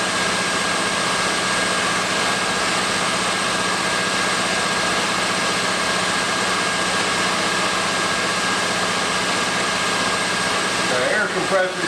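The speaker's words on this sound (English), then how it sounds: "Compressor just kicked in." An air compressor runs steadily in a machine shop where a hard-turning job is under way on an Acer mill, giving a loud, continuous mechanical hum and whine that holds throughout with no break.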